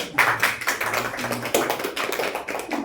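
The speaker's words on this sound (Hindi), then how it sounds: "ताली बजाइए एक बार।" A group of friends at the Rock Garden clapping hands in a steady rhythm, with dense, fairly close claps running continuously through the whole stretch.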